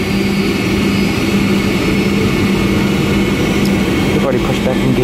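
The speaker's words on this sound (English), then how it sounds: "We've already pushed back from gate C7, Charlie 7, and now we're headed toward the runway" A United Airlines Boeing 757-300 taxiing toward the runway after pushback, heard as a steady, loud low jet-engine rumble and cabin whine that holds throughout, with a muffled voice faintly present underneath.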